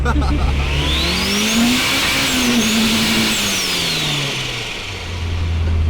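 A turbocharged Honda B16 engine in a Triumph Acclaim accelerates hard, its loud rising drone climbing and shifting in pitch up close, with turbo whine above it and voices talking underneath.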